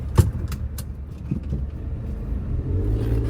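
A 2010 Nissan March with a manual gearbox being driven, its low engine rumble building gradually beneath a few short knocks and clicks early on, heard from inside the car with nobody speaking.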